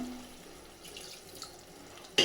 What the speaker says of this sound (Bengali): আমি অল্প করে পানি দিলাম